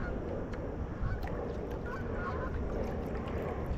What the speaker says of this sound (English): Hear the geese overhead,